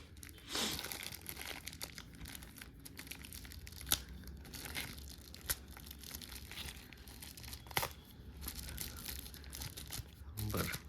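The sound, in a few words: tape being torn off packaged aircraft scale model wings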